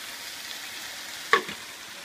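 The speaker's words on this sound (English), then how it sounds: "as soon as it hits the actual wok, it's frying up straight away" Cold sauce for a Thai chicken salad hitting a hot wok with chicken, a soft steady background hiss broken by one sudden sharp sizzle burst that quickly fades.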